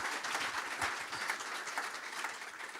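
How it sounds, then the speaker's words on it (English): Audience applause during a Q&A session at a church event, a steady, moderately distant wash of clapping that holds evenly for a few seconds without voices. "please give him a round of applause."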